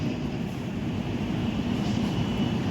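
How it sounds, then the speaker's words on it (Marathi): A train rolls past near a hilltop during light drizzle, a steady broadband rumble with low-end churn holding constant and fairly close throughout, with no voices. "ट्रेन"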